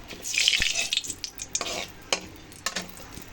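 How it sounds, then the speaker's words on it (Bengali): Whole spices, bay leaf and dried chili sizzle and crackle in hot mustard oil in a kadai, with a few sharp scraping stirs of a spoon against the pan. "কড়াইতে আমি প্রথমে সর্ষের তেল দিয়ে দিয়েছি এখন গরম মশলা দিয়ে দিয়েছি"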